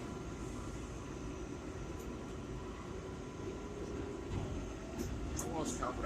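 A 4 train subway car rolls between stations with a steady low rumble and hiss, rising slightly near the end with a few brief squeals, while a voice talks over it.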